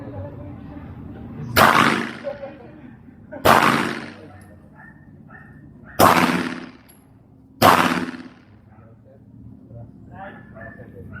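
Four sharp, loud gunshots ring out at roughly two-second intervals, each with a short ringing tail, over a low background hum and faint talk.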